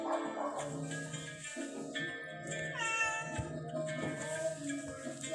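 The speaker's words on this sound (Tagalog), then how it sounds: "yung isa kong kasama itong pusa" A house cat meows repeatedly in long, whiny, drawn-out cries at close range inside a home, with faint background noise.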